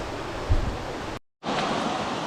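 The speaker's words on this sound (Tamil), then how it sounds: "தண்ணியோட சத்தம் கேட்குதான்னு தெரில." Steady rushing water near a suspension bridge, a broad continuous hiss of flowing current with a brief thump and a short dropout midway, fairly loud and close.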